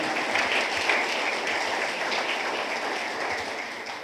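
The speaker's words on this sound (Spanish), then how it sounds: "Un aplauso al Señor" A church congregation applauds in praise during a Spanish-language sermon, a steady, dense patter of many hands held at an even level for several seconds with no voices over it.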